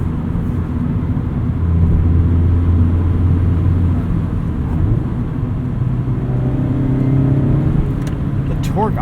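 A Mazda MX-5 Miata's engine drones steadily from inside the cabin while driving, then climbs in pitch as the revs rise partway through, with a continuous low road rumble underneath.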